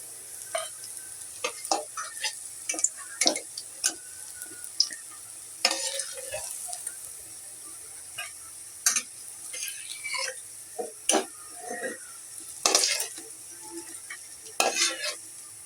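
Onions frying in a pan for a lentil and prawn bora dish, a soft steady sizzle under repeated scraping strokes of a spatula stirring, close and moderately loud, with no talk.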